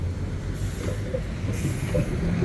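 A train passes below on the Eastern train line near the Hua Mak MRT and airport train area, a steady rumbling roll of wheels on rails with faint squeals, heard from a distance without a break.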